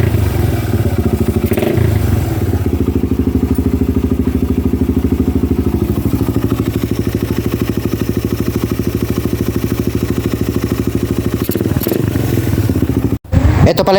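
A Suzuki Raider 150 motorcycle with a 28mm carburetor idles steadily and loud up close, its even rapid putter holding for most of the clip before a brief knock near the end.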